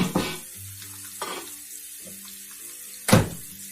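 Beef strips for Cuban vaca frita frying in a hot pan, with a broad steady sizzle broken by a few sharp louder bursts as the meat is stirred or moved, no voices present.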